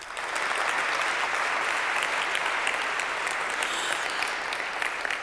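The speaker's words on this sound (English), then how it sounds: "let's give these guys a huge round of applause" A large audience gives a huge, sustained round of applause for pitch presenters on stage, a dense uniform roar of many clapping hands lasting over five seconds without pause.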